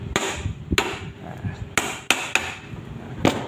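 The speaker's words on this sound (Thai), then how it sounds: "เพราะฉะนั้นเราใช้ค้อนนะครับ ค้อนตอกตรงมุมนะครับประมาณ 2-3 จุดนะครับ" Hammer blows tapping the corners of an electric fan motor housing during repair, about six sharp metallic knocks at uneven intervals, close and fairly loud, alone without speech.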